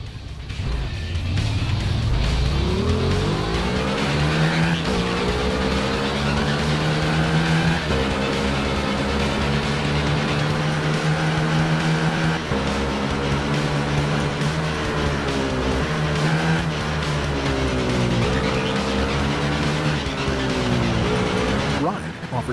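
Racing motorbikes in the RIDE video game, a loud continuous engine roar rising and falling through gear shifts on the track, steady and close throughout.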